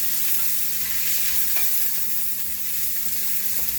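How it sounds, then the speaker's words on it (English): Chopped onions fry in hot oil in a pan aboard a narrowboat, a steady loud hissing sizzle with faint pops and a low hum underneath, no talking. "So I'm just going to fry the onions up a little bit."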